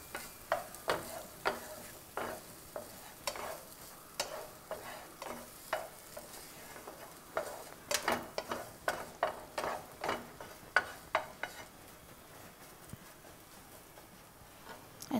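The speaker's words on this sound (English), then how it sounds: "this paneer also, we'll just roast it a little bit so the rawness of the paneer is gone" Paneer roasting in a hot pan, a steady sizzle broken by repeated close scraping and stirring strokes of a spatula, sounding alone without talk.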